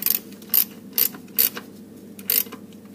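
A ratchet tightens the nuts on a Jaguar ignition coil's wire terminals, giving four or five short bursts of clicking at a steady pace, close and fairly quiet with no talking.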